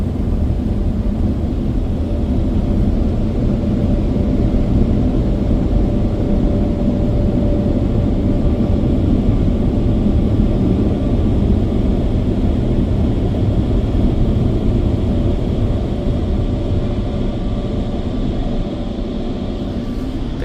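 A Ryko Softgloss XS2 car wash dryer at a Shell station in Redlands, California roars in a loud, steady blast of air from start to finish, a dense blower rush with a faint hum beneath it and no talk.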